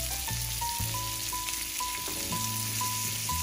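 Chopped garlic sizzles steadily in a frying pan, a constant close hiss with faint tonal hum and small clicks underneath.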